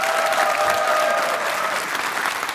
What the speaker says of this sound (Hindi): तालियों के साथ आप सभी का बहुत बहुत स्वागत।